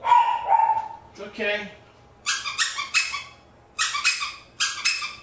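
A puppy gives several sharp, close barks in two quick bursts, following a woman's short soothing words.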